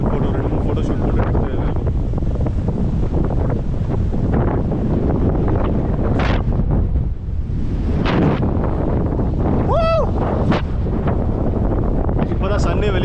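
Strong gusts of wind buffet the microphone in a continuous rough roar at a fort in Mumbai, with brief voices and a high whistling tone breaking through.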